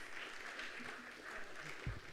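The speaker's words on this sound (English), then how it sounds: "Can I have another round of applause for former Mayor Edelcup?" Faint audience applause for a former mayor at an outdoor time capsule opening, a distant crowd clapping steadily at low volume.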